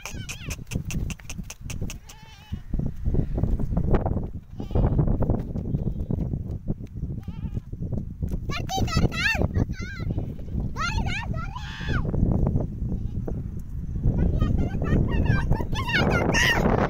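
Goats bleat repeatedly in short, wavering calls near the microphone, scattered across the scene and mixed with people talking and calling out to the animals.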